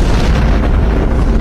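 A loud explosion sound effect depicting the Big Bang: a dense, sustained low rumbling roar that holds steady at full strength with no pauses, heard alone.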